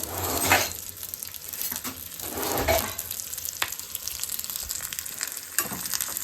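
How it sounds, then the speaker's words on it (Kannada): Masala ingredients frying in hot oil in a home kitchen, a steady sizzle with stirring scrapes and louder bursts as the mixture is moved, close and alone without talk. "ಇವಾಗ ಇದನ್ನೆಲ್ಲ ಒಂದು ಸ್ವಲ್ಪ ಹೊತ್ತು ಫ್ರೈ ಮಾಡ್ಕೊಳ್ಳೋಣ."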